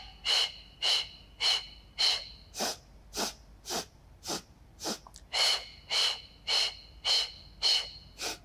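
Forceful breaths out during a Pilates mat exercise with arm pumping, about fourteen short, hissing exhales in a steady rhythm, close and clear with no talking.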